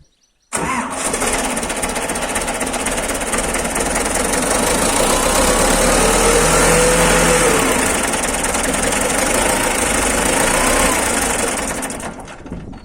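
A tractor engine that is failing to rev up starts after a brief silence, then runs steadily for about twelve seconds at a low, rough, knocking idle, loud and close with no talk.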